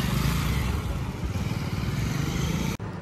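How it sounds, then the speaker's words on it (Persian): A motorcycle ride through city streets on the way to Harandi Street: a loud, steady roar of engine and rushing wind held close throughout, cutting off abruptly just before the end. "میدونی که سوار موتور شدم"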